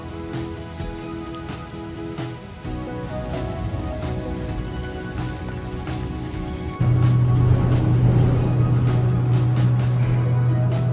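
Steady rain falls outdoors in spring on a university campus, a continuous hiss of drops with scattered sharper taps on nearby surfaces, growing slightly heavier and closer partway through, with no one talking.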